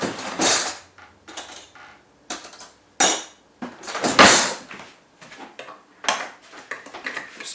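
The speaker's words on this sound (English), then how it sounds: "Spoon, lift it up, pull the lid off." A metal spoon prying the lid off a tomato tin, a series of separate scraping, clinking metallic pops and creaks with short pauses between them, close and fairly loud.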